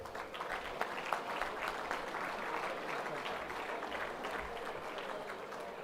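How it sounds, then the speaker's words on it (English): Applause from the crowd at a football netball league awards night, a continuous even wash of clapping held for several seconds at moderate distance, no speech over it. "A round of applause."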